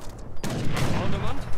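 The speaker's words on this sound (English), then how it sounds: "snipe that punk. Shoot him." Gunfire from Age of Empires 3 battle, a burst of overlapping shots rattling on after a quiet lead-in, loud and continuous with game noise.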